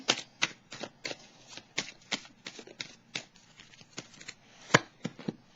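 Oracle cards are shuffled by hand in a quiet room, a close run of quick, uneven riffling bursts and soft slaps that repeats irregularly.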